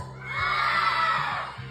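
Loud crowd of audience members shouting and screaming together at a fiesta comedy night, a sustained roar close by that swells and holds for nearly two seconds.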